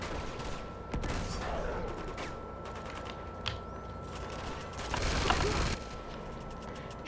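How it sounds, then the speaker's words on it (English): Bursts of automatic gunfire from the video game Uncharted 2: Among Thieves, with dense rattling volleys through much of the stretch and a louder, heavier barrage near the end, set against a constant game soundscape. "Shooting me when I don't want to be shot at."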